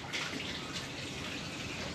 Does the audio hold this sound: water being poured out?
yes